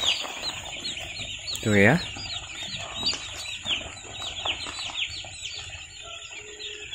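About 1200 broiler chicks crowd a brooding shed, filling it with continuous high, overlapping peeping; a louder nearby cheep rises briefly, and someone speaks a few words underneath.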